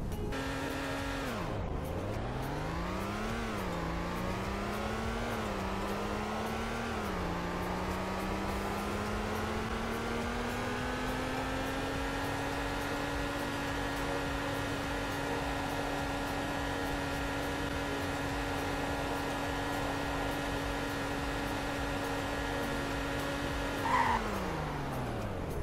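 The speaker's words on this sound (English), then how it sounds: "So let's just do a 0 to top speed and braking test." A car in the Roblox game Greenville accelerates from a standstill through several gear shifts, its engine whine climbing in steps, holding a steady high pitch at top speed, then dropping as it brakes near the end.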